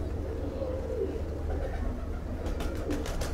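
A plump, round-bodied pigeon coos in low, soft murmurs, continuous against a steady low hum, with brief higher chirps from other birds near the end.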